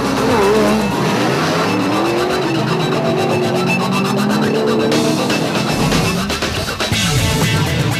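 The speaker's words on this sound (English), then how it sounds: "It was a spectacular start to the race as cars chased each other down a short section of tar" Off-road race cars at the start of a desert race, charging down a short tarred section: dense, loud engine roar from several cars at once, with revving and tyre noise throughout and no talk.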